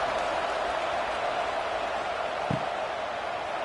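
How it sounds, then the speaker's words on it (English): Stadium crowd noise in a college football video game, Dartmouth at Pennsylvania, a steady broad roar of fans before a kickoff, loud and continuous with one brief thump near the end. "this crowd is buzzing after that last score"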